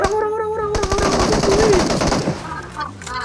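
Rapid automatic gunfire in the PUBG video game, a dense burst of fast cracks lasting over a second, loud and close, with a tonal game sound before it and a voice briefly audible afterward.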